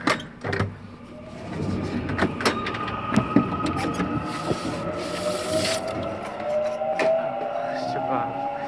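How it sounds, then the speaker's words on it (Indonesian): Inside a subway car in Bucheon, South Korea, a sliding door thuds and clunks shut amid motor whine and rumble, with people talking nearby. "Coba, pintunya cukup keras juga ya."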